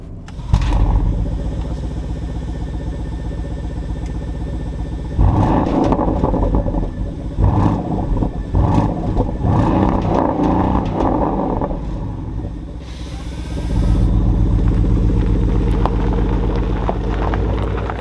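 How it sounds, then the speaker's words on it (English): A 2025 Porsche Cayenne Turbo E-Hybrid with 730 bhp, heard from inside while driving: a steady engine drone that swells into louder surges and revs, continuous and close, with no talking. "let's take that thing for a drive because it really is quite an insane piece of kit"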